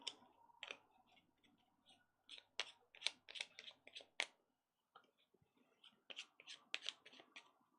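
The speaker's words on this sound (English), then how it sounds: "I need to shuffle the rivals' selection tiles" Small cardboard rival selection tiles from the board game Lost Ruins of Arnak are shuffled by hand on a table, giving close, quiet bursts of clicking and tapping in uneven clusters with a short pause midway.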